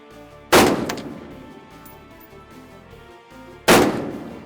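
Two loud rifle gunshots at a shooting range, each a sharp close crack with a ringing decay, spaced about three seconds apart, with no talk in between.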